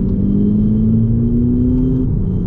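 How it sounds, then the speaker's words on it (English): VW Polo GTI engine with the sports exhaust engaged in sport mode, a steady, rising drone heard close and loud, alone for a couple of seconds before easing off. "it does sound good in the manual mode, with the sports exhaust engaged in sport mode"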